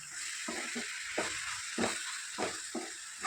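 Cluster beans tossed with a tempering in a pan, a soft sizzle with six or seven quick scraping stirs spaced evenly, close and fairly quiet, no voices.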